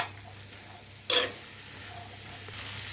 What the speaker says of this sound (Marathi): गॅसची फ्लेम थोडी मोठी करून हे सगळं चांगलं एकजीव करून घेऊया